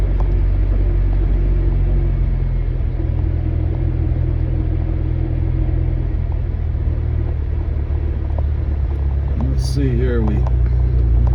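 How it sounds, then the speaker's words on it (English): A 1997 Jeep Wrangler in four-wheel drive runs with a loud, steady engine rumble as throttle is applied off-road, heard close and continuous while someone talks over it. "I'm giving her some throttle. Yeah, that 4-wheel drive's in."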